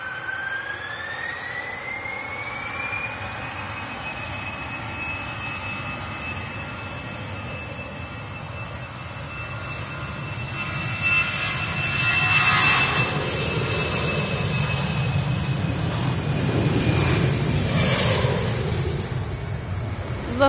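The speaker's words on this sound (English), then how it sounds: "Lufthansa A320 on the way to Munich." Lufthansa Airbus A320 jet taking off at Manchester Airport bound for Munich, a long rising engine whine that builds into a loud, broad roar as the aircraft gains power and passes.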